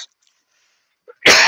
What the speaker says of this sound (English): It doesn't stop me coughing, though.